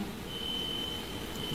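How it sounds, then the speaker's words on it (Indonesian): An electronic alarm beeps inside a church, sounding as a thin, steady high tone held for most of the moment over a low hum of room noise. "Ini bunyi alarm atau apa ya?"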